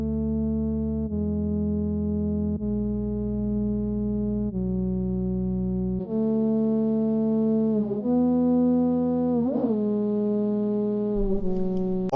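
Sustained electronic music tones run through the CHASM audio plugin, made with DirektDSP, as a steady harmonic drone that shifts pitch in several stepped chords, gaining a gritty, distorted edge partway through and ending with a glitchy burst.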